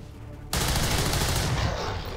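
Weapon fire aimed at a muton in XCOM 2 starts abruptly as a dense, sustained burst of shots that stays loud to the end.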